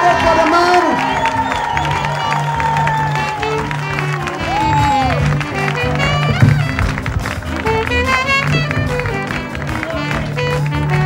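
A crowd at a calypso showcase finale cheers and applauds, loud and continuous, with whoops and a busy wash of clapping layered over music and a sustained background tone, rising and falling in waves throughout.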